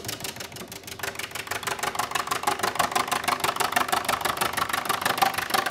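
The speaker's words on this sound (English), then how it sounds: "Turns just like a regular wood lathe." A lathe turning a piece of biofoam gives a steady, fast rhythmic thumping as the workpiece spins against the cutting tool. The sound is close and continuous and gradually grows a little louder.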